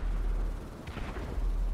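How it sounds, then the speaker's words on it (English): Distant explosions in the video game GTA V, deep low rumbling booms rolling in the background with a brief sharper burst partway through, fairly quiet and with no talking over them. "I can hear explosions."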